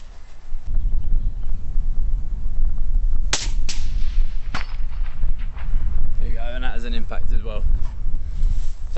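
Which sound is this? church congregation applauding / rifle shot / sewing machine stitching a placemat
rifle shot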